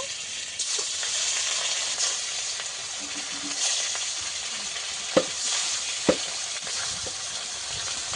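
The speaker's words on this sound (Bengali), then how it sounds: "মাছটা আমি এইভাবে ভেজে নিয়েছি, আবারও মাছগুলো ভেজে নেব।" Pangas fish pieces fry in hot oil, a steady bright sizzle close up with a couple of sharp spatters and occasional stirring, no voices.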